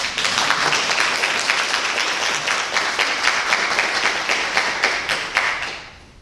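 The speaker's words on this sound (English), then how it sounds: "I think that deserves applause." An audience at the RTHS high school honors night ceremony claps loudly and steadily after a scholarship announcement, a dense crowd applause that tapers off near the end.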